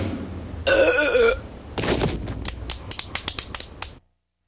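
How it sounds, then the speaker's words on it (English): A cartoon character from The Simpsons lets out a long, loud belch, followed by a rapid string of short clicks and smacking sounds. "The burp champion of the world."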